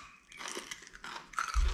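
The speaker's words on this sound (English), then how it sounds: "Crunchy. Oh, it's sweet." Biting into a crunchy home-grown carrot, followed by several close, loud crunching chews in quick irregular bursts, with no talking.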